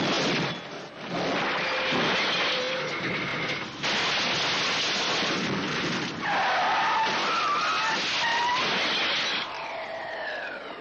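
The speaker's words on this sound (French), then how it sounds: "une course-poursuite dantesque entre un camion et un bateau tracté par une voiture" A film car chase from Road Games, a truck against a car towing a boat: tires shriek and skid over a roaring engine, with squeals rising and falling and no voices.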